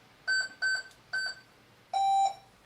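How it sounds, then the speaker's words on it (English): A school building's security alarm keypad gives three short electronic beeps in quick succession, then one longer, lower tone after a pause, clear and close in a quiet room. "Let me get the alarm,"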